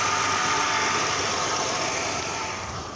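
A 2004 Kia Sorento engine idles close up with a rough, uneven misfiring rumble, steady and loud for a few seconds.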